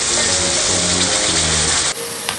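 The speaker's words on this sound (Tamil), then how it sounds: "இப்போ ஒரு 1/2 கிளாஸ் தண்ணி ஊற்றிடுங்க." Half a glass of water poured into a hot pan of masala for egg korma, giving a steady, loud splashing sizzle that runs unbroken for about two seconds, then cuts off abruptly to a quieter simmer.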